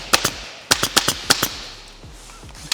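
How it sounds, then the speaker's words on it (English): A staple gun fires into fabric trim on a boat in a box, sharp loud snapping shots in quick clusters of two or three, then fainter clicks near the end. "That's exactly what I'm stapling"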